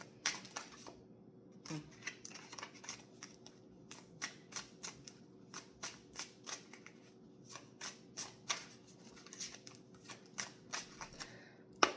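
Tarot deck being shuffled during a reading, a steady run of crisp riffling snaps and soft flutters repeating in quick bursts, close and fairly quiet against a faint background hum.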